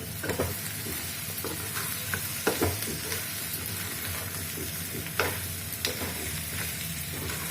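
Crab pieces frying in a pan, a steady loud sizzle broken by repeated scraping and clacking strokes as they are stirred.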